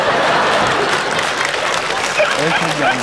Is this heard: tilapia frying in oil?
no